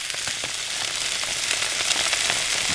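Pepper steak frying in a pan while camping, a loud close steady sizzle with fine crackling pops and no talk.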